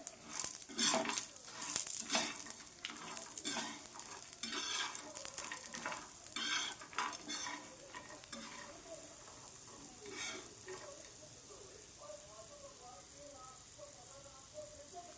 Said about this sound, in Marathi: त्यासोबतच आता आपण थोडेसे धने टाकून घेणार धने हे व्यवस्थित भाजणार